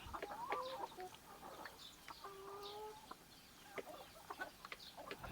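Chickens cluck and call near a shaded coop under trees, with a few longer drawn-out tones among short scattered clucks in an otherwise quiet yard.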